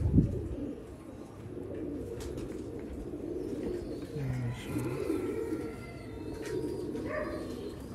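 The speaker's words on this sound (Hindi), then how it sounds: "ये जी भाई शेखों वाला कबूतर है" A Sialkoti Sheikhon wala pigeon coos softly in a few low, throaty bursts, faint against a noisy background with occasional rustling.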